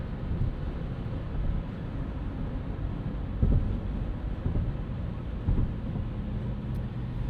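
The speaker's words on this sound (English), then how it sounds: "Got some wind noise." Steady wind noise and road rumble inside a 2026 Subaru Crosstrek Hybrid driving in city traffic, a broad continuous whoosh with a couple of faint bumps, no talking.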